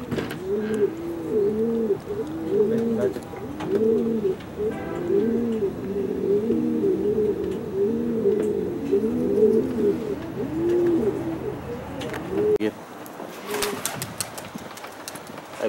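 Pigeons coo steadily and rhythmically near a released hen dove, a close, repeated throaty warble that continues for many seconds before ending abruptly with a few rustles.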